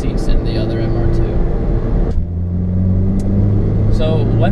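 A Toyota MR2 pulls hard ahead on the road, its engine note rising and sustained as it accelerates away, heard from a following car over steady cabin rumble, with talk alongside.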